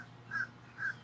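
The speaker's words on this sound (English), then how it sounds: "About 20 fucking blackbirds just flew into the tree above me" Two loud, harsh calls from birds perched in a tree overhead, with a short gap between them and no other voices.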